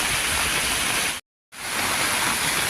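Heavy rain with strong wind at a roadside meatball stall, a loud continuous hiss of downpour that cuts out briefly midway and then resumes just as dense.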